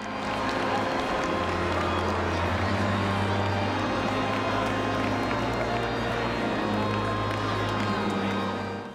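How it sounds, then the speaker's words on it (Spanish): A large crowd in the streets of Bari gives Pope Francis a loud, continuous ovation of cheering and clapping, a dense roar that stays strong with no breaks. "Lo recibieron con esta gran ovación."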